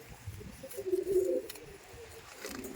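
Pigeons cooing in a pigeon loft, a low rolling coo swelling near the middle and fading, with soft background noise and no talking.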